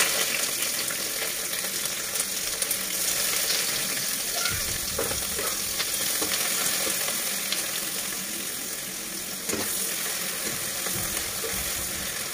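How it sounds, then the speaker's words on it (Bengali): Pointed gourd and potato pieces fry in a pan with a steady, dense sizzle, close and continuous, and a few brief stirring scrapes break through partway. "পটল আর আলু ওইগুলো একটু ভালো করে ভেজে নেব"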